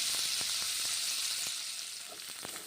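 Black gram lentils (kalai dal) hitting hot oil in a pan with yardlong beans, giving a steady, close frying hiss with a few soft stirring ticks and no talk.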